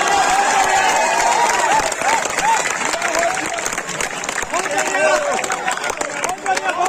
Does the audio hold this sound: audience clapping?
yes